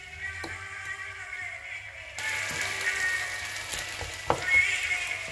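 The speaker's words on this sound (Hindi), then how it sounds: "जो मटर है ना वो हम इसमें अच्छी तरह से फ्राई करेंगे" Green peas fry in a pan for an egg and sweet pea dish, giving a steady broadband sizzle that grows louder partway through, with a few soft clicks and stirring knocks and no talk.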